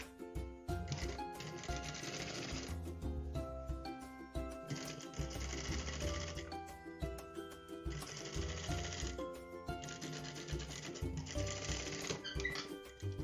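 A sewing machine stitching pocket fabric at a 1 cm seam allowance, rapid rhythmic whirring in several bursts separated by short pauses, close and steady.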